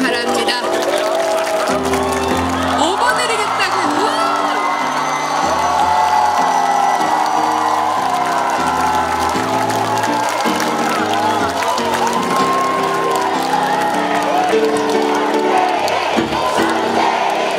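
A large crowd of about 30,000 at a Moon Jae-in presidential campaign rally in Hongdae cheers and applauds continuously, with loud whoops and shouts over music-like tones, sustained throughout.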